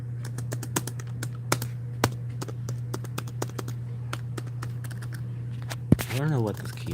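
An old laptop keyboard is typed on in quick, uneven bursts of close, crisp key taps over a steady low hum, and a voice briefly speaks near the end.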